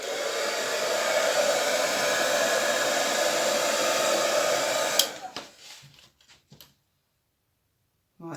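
A hair dryer blows air onto wet acrylic Dutch pour paint, a loud steady whooshing roar held for about five seconds before it is switched off, followed by a few light clicks and taps and then silence.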